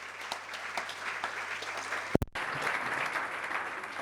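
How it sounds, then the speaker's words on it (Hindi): A crowd at a Jain temple discourse claps in support, sustained dense applause filling the room, broken by a brief sharp knock and momentary dropout midway before the clapping resumes just as full. "आप लोगों ने ताली बजा के समर्थन किया है"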